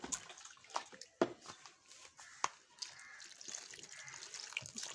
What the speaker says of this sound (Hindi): अब सबसे पहले हम जो है बैंगन को धो लेते हैं।